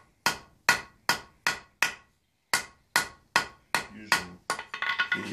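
Iron struck with the edge of a blacksmith's hammer in angled blows at Batsto, New Jersey: about a dozen sharp, ringing impacts in an uneven rhythm, close and loud, the last few quicker and overlapping with metallic ring.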